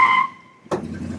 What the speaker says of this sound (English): you can hear the back wheel spinning on the passenger side